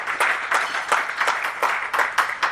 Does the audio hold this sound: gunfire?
no